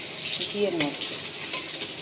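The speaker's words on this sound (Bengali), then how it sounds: "এখানে একটু দিয়ে মাঝি ফোড়ন দিয়ে রসুন ভাজা করছি" Garlic frying in ghee with a spice tempering gives a soft, steady sizzle, with a few scraping stirs and a sharp clink of a utensil against the pan.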